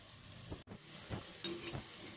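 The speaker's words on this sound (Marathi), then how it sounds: "आणि बारीक गॅसवरच आपल्याला यांना आता ब्राऊन होईपर्यंत तळायचे" Balushahi frying in oil over a low flame, a faint, soft bubbling sizzle with a few gentle stirring sounds, quiet and close, without speech.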